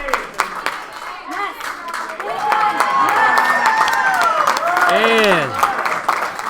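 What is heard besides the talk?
crowd cheering and clapping at lifting competition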